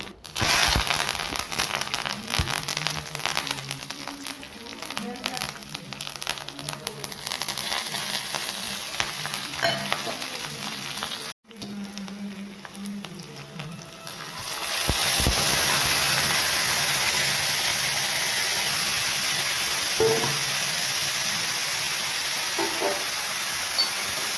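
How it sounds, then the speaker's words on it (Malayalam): Mustard seeds, green chilli and curry leaves fry in hot sesame oil in a pan for lemon pickle, giving a steady, close sizzle and hiss that briefly cuts out, then returns louder and brighter with scattered pops. "നല്ലെണ്ണ ഒഴിച്ചു കൊടുത്ത ശേഷം അതിലേക്ക് കടുകും പിന്നെ പച്ചമുളകും കറിവേപ്പിൻ്റെ ഇട്ട് കൊടുത്ത് മൂപ്പിച്ച ശേഷം"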